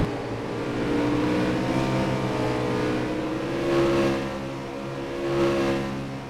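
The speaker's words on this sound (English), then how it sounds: "The engine is very loud." A loud stock car engine in a racing video game at Daytona drones steadily with layered harmonic whine, rising and swelling in pitch a couple of times as it revs.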